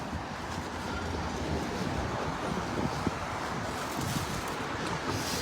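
Strong cold wind roars steadily against the microphone outdoors by a road, a broad rushing buffeting noise with no voices.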